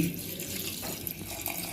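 Two cups of water are poured over washed biryani rice to soak it, a steady close splashing stream that runs continuously throughout.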